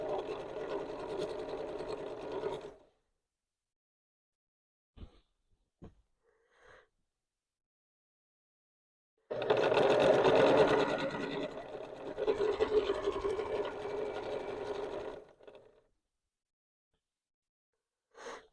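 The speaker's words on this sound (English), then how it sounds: "I'm just going to keep sewing here for a little bit more until we get closer" A sewing machine sews quilt binding in two long close runs, one short and one several seconds long, separated by quiet with a few faint clicks and handling noises.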